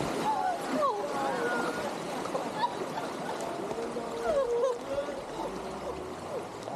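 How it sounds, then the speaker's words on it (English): Rushing water of a big waterfall on the White River near Ocho Rios, Jamaica, a steady broad roar through the whole stretch with voices or melodic sounds drifting over it. "This is a big waterfall."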